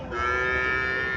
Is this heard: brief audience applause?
no